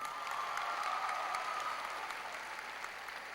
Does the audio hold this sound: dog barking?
no